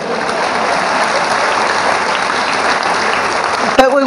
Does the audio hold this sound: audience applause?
yes